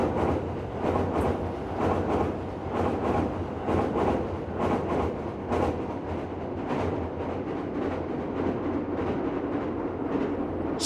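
A JR Oito Line train heads out of Matsumoto toward the snowy Northern Alps in winter, its wheels clacking over rail joints in a steady, evenly spaced rhythm under a constant rolling rumble, with no voices.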